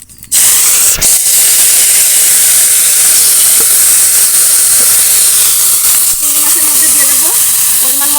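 Small shrimp drop into hot mustard oil and erupt into a loud, steady sizzling hiss that carries on throughout, close and intense.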